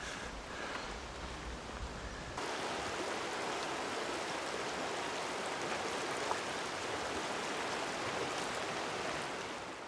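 Continuous rushing water of the Adams River during the sockeye salmon run, a steady, full-bodied flow that swells slightly louder after a couple of seconds and stays even with no talking.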